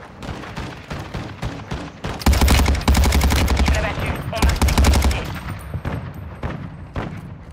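Sustained automatic gunfire in the video game Warzone, loud rapid bursts with heavy low thumps, broken by a short pause and tapering into scattered shots, with a voice speaking around it.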